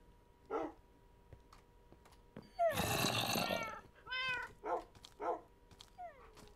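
Minecraft cat meowing several times in short, rising in-game calls, with a longer louder yowl in the middle, fairly close and clear with no talking.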